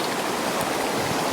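A river swollen and running high after snow melt rushes steadily, a dense, continuous roar of churning water close by with no voices over it.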